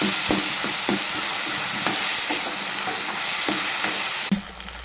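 Tomatoes sauté in a pan for a ridge gourd curry, a steady loud sizzle broken by regular scraping stirs of a spoon, close up with no talking.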